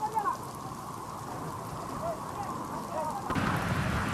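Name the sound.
heavy rain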